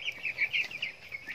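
Large broiler chickens around eighteen days old cluck and chirp in a quick, uneven run of soft calls, close by and with no talking.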